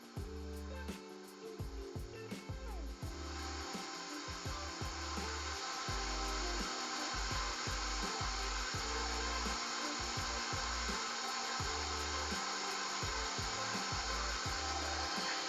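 Electric mixer beating gingersnap cookie dough with vanilla, a steady close whirring drone running throughout with scraping knocks of the beaters against the bowl, louder after the first few seconds and no talking.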